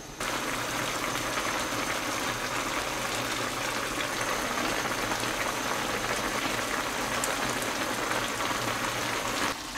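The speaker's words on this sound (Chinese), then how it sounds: "让它咕嘟着吧" A big pot of mixed vegetable and meat stew simmers vigorously, its bubbling a constant close, rain-like hiss with scattered pops that holds steady throughout, no one talking.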